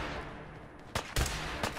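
Gunshots go off in a Fallout 4 firefight, three sharp cracks at uneven intervals, the second heavier and doubled, over a low background hum.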